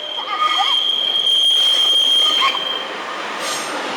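A British Rail Class 142 train running through a station, a loud nearby rumble with high wheel squeal ringing over it, easing off toward the end.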